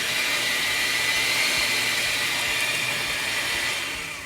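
A steady, loud whirring of an electric mixer blends no-bake pie filling with half a cup of milk, holding an even drone throughout before tapering slightly at the end.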